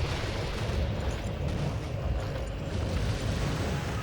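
Dragon bombs going off in Monster Hunter, a dense continuous rumble of explosions, loud and booming with heavy low end and no break.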